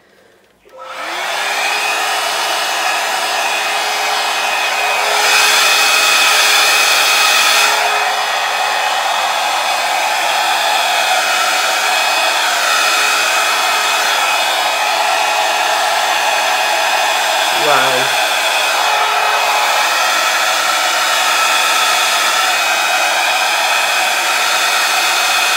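An air swipe tool blows steadily across acrylic paint in a Dutch pour fluid art piece, making a loud, continuous hairdryer-like whoosh. It starts abruptly and runs for about twenty-five seconds with little change in level.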